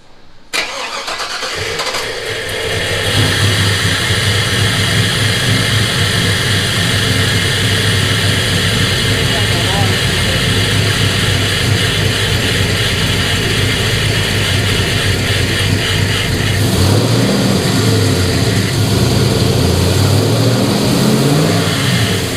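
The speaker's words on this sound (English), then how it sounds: "Every time you try to give it gas, it's like it runs out of gas and then does that." A Chevy S10 pickup with an LS V8 engine swap starts, then idles loud and rough, with uneven sputtering that wavers near the end, close by and continuous with no talking.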